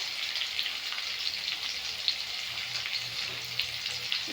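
Salt, turmeric and chili powder frying in oil for a thin pabda fish curry with potato and tomato, a steady close sizzle with faint crackles throughout, no voices.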